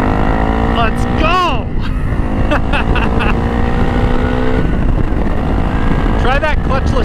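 A KTM 690 Enduro R single-cylinder motorcycle accelerates hard, its loud engine note rising and dropping through quick clutchless upshifts, with steady wind roar and a rider's voice breaking in over it.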